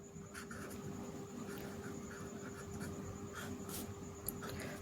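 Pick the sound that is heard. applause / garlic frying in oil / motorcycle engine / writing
writing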